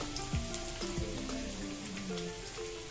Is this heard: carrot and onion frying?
yes